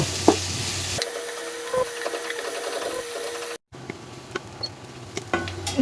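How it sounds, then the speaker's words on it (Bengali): Onions fry in hot oil until reddish for a dish of taro stolons with prawns, making a steady nearby sizzle with scattered stirring taps and a brief cut in the middle. "এখন আমি পেঁয়াজকে একটু লাল লাল করে ভেজে নিব"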